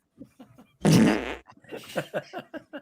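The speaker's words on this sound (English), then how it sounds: "that a beer fart right there?" A loud, close beer fart rips out for about half a second amid quiet talking, with the conversation continuing right after.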